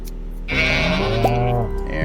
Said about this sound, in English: Oh, and of course the sheep is nice and woolly.